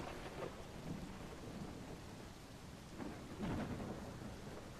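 A thunderstorm with rain rumbles on, deep rolls of thunder swelling and fading twice over a steady hiss of falling rain, fairly quiet overall and heard alone.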